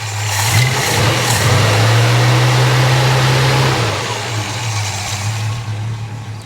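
A Holden HK car with a 253 engine runs close by after a fuel pump replacement, revving up into a strong steady drone for a few seconds before dropping back to a rough idle.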